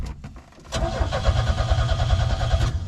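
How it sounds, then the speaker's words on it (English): A 1987 Chevy S-10 that sat since 1999: a short whir of the fuel pump priming, then the starter cranks the engine over in a rapid, rhythmic chug, close and steady. "You can hear the fuel pump picking up, and she cranks over."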